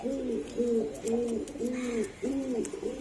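A prized pigeon pair coos in a steady, repeating rhythm, about six clear, close calls in a row with little else around them.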